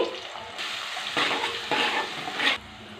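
Steady sizzling of onions frying in oil, with bursts of louder crackle and stirring, close by and without any talk.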